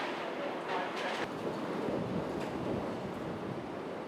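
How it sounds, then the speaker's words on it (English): Gusty wind from Hurricane Katrina roars steadily across the microphone, a broad rushing noise that swells in brief gusts throughout, loud and close with no clear voices. "the winds just started to pick up and they're just getting a little gusty"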